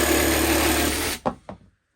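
A Parkside jigsaw with the blade cutting upwards saws through a tongue and groove board, buzzing loudly and steadily before cutting out, followed by a couple of brief knocks as the cut ends.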